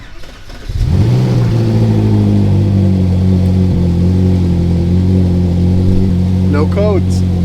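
A Ferrari 458 engine cranks and catches after reassembly, then settles into a loud, steady running rumble close by, with a brief squeal near the end.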